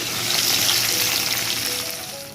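Fish sizzling in oil in a pan in a home kitchen, a close, continuous frying hiss with a light crackle, steady from start to finish and no one speaking.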